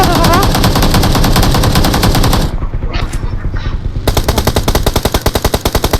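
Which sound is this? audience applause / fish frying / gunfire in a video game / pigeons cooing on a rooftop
gunfire in a video game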